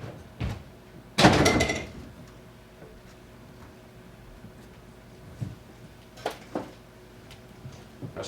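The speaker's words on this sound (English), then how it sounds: "he closed the door with a deep echoing bang" A heavy door shut with a deep, echoing bang, one loud thud ringing out briefly, preceded by a softer knock and followed by a few faint clicks and taps in a quiet room.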